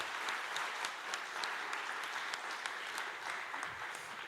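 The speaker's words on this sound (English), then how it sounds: "round of applause, please" Applause from an audience at a closing speech of a conference on diplomacy and the UN, a soft continuous patter of many hands heard from a distance, steady for a few seconds.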